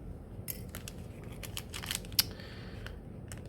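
A metal staple pried out of a package during a craft kit unboxing, a string of small dry clicks and scrapes with one sharp snap near the end, close and fairly quiet.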